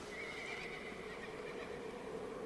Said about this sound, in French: On dirait un cheval.